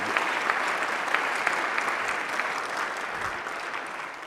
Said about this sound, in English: Can I please ask for a moment of applause for Brooke